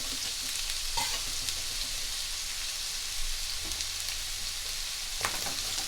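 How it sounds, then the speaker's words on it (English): Onions and yellow peppers stir-fry in a pan at three-quarter heat, a steady close sizzle with occasional louder scrapes and stirs. "I'm going to throw the yellow peppers in on the steamer. And I'm now going to throw the onions in."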